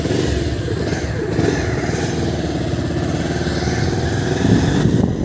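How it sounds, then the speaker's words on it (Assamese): A motorcycle engine runs steadily up close, its low throbbing rumble holding fairly even with slight surges in revs. "এই সুকমলে বাইক চলাব"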